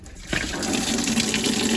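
Water drains steadily from a 2016 Chevrolet Silverado 3500HD during a radiator flush, a loud close continuous gushing that starts abruptly and runs on without talk.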